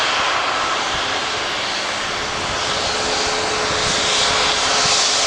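A passenger jet at Manchester Airport produces a constant loud roar of engine noise and rushing air, filling the entire stretch without pause or voices.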